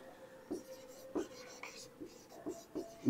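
Pen or chalk writing during a physics lesson on dielectric polarization, heard as short scratchy strokes in quick succession, close and fairly quiet, with a faint steady hum behind them.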